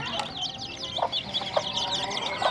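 Hens cluck repeatedly in short bursts close by, with birdsong chirping in the background of a backyard flock where the birds have been fighting.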